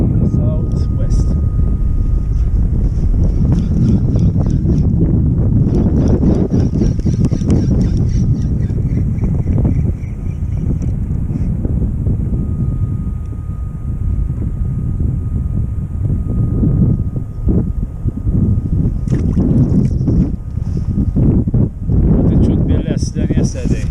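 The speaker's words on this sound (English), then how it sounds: "I can feel the wind already" Strong wind buffets the microphone at a harbour on an early-morning fishing outing, a loud continuous roar with gusting swells and no spoken voices heard.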